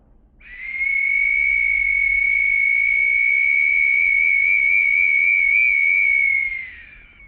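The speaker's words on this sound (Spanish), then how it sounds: "la réplica que ya está con el sonido, con los silbatos arreglados" A single steady high-pitched tone from a replica ancestral whistle is blown and held for several seconds, with a slight warble, rising in and fading out cleanly.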